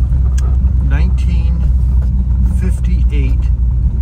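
Low, steady engine rumble and road noise from inside a 1958 Ford Thunderbird coupe while riding, loud and continuous with people talking over it.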